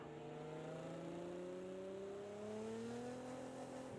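Race cars in the racing game Project Cars, driven with a G29 wheel, engines whining steadily with rising and falling pitch as they pass close by, loud and continuous with no talking.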